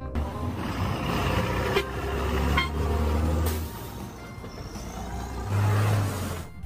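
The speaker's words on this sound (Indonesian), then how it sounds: "yang ini truk pasir" A sand truck's engine runs with a rumbling drone that rises and falls as other road traffic passes, with a brief horn-like toot among the busy street noise.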